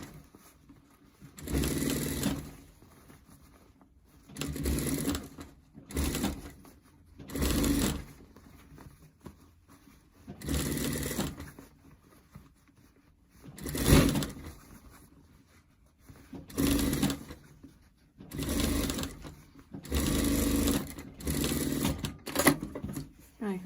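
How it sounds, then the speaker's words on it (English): A sewing machine top-stitches a folded seam on a fabric scrub hat, running in about eight short bursts of rapid mechanical whirring, each separated by quiet pauses. "Fold your seams both into the centre and top stitch on the right side as close to the edge of the seam as possible"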